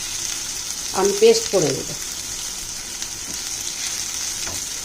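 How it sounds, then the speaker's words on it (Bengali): Egg curry spices frying in a pan with red chilli, a steady sizzle running throughout while someone speaks briefly near the start. "এই পুরোটা এরকম ফ্রাই করে"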